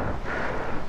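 Strong cold wind gusting across the microphone outdoors, a steady roaring rush with slight swells, no voices.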